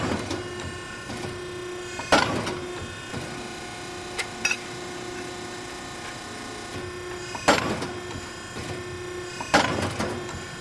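Piranha ironworker punching holes in steel for a pipe hanger, a steady machine hum running throughout with several sharp, loud punch strikes at intervals, no talking.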